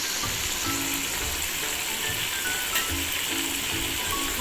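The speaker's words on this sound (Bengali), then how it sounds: "দেখো আস্তে আস্তে এই দেখো কি সুন্দর করে ভেজে নিচ্ছি।" Chicken popcorn pieces fry in hot oil with a steady, fairly quiet sizzling hiss that holds for the whole stretch, with faint stirring and bubbling underneath and no voices.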